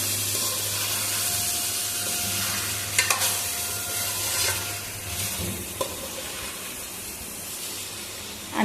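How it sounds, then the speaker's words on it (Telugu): Chicken curry frying in a pan after tomato pieces are added, with a steady sizzle and hiss under a few scraping stirs of the spoon; no voices. "టమాటా ముక్కలను వేసినాక ఒకసారి అంతా కలుపుకుందాము."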